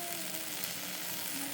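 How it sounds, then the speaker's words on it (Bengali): Fish frying in a pan over an outdoor village picnic fire gives off a steady, dense sizzle with no break, fairly quiet and close. "মাছ ভাজি বসাইছি"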